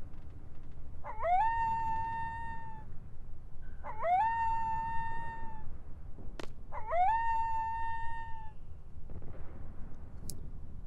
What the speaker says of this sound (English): Three howls that all sounded exactly the same.